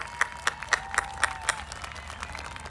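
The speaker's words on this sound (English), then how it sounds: "Let's give them a big round of applause" Clapping at a Class of 2021 graduation ceremony: about a dozen evenly spaced, sharp claps in a steady rhythm, fairly quiet and fading toward the end.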